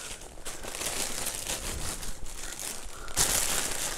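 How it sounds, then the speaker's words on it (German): Plastic shopping bag crinkles and rustles steadily while groceries are packed back into it, close and fairly quiet, with a sharper burst of crackling near the end. "Muss ich das erstmal wieder in die Tüte reinkriegen."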